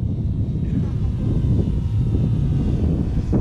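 A remote-control model airplane flying with differential thrust gives a steady, close motor drone under heavy wind rumble for the whole stretch, with no clear breaks.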